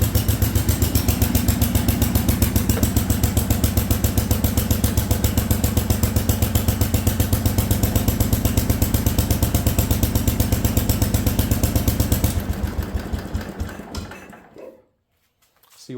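An Allis Chalmers garden tractor engine runs close and loud with a fast, steady, rattling single-cylinder beat, then is switched off and quickly sputters down into silence near the end.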